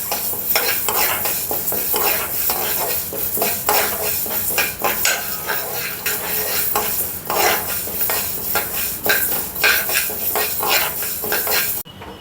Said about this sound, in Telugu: మెంతులు వేగినాయండి, ఈ మెంతులు తీసేద్దాం.